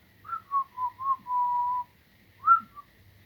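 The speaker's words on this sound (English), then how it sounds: "Should really be whistling as I do this" A person whistles a short, simple melody of several notes, close and clear, with brief pauses between phrases.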